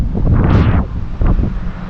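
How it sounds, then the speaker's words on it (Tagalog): Loud gusts of cold wind in Japan slam into the microphone in low, rumbling bursts, one strong surge followed by a shorter second gust. "grabe ang hangin"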